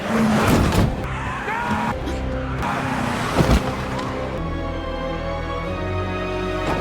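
A car skids in a crash scene, with loud, dense engine roar and tire noise throughout, sharp impacts around the middle, then a steady, heavy rumble to the end; no speech.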